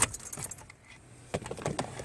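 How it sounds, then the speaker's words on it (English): An ignition key on a 2003 Ford F-450 truck is turned off and back on, jingling keys and sharp clicks at the start and again midway, close and moderately loud with no talking. "Turn the key off, turn the key back on, off."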